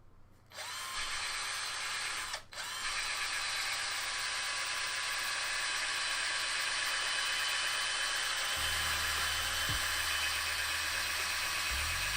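A power drill runs continuously with a high, steady whine close to the microphone for most of the stretch, briefly dipping near the start before holding an even pitch.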